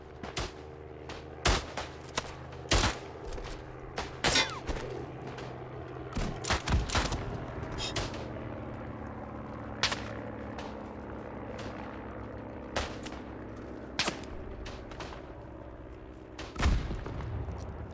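Bursts of rifle and machine gun fire crack sharply at near and far distances across a World War I battlefield in the game Isonzo, irregular volleys over a low rumbling background.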